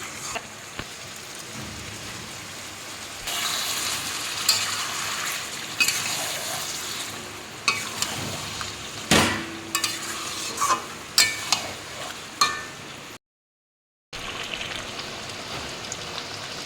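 Mutton sizzles loudly in a pan with ginger, cumin, garlic and onion paste, heard close up as a steady hiss, with scraping and clattering strokes as it is stirred, then a brief silence near the end.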